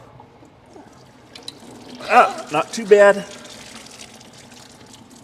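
Coolant drains from the radiator of an Allis Chalmers Two Ten tractor into a bucket, a soft steady trickle under a brief spoken remark.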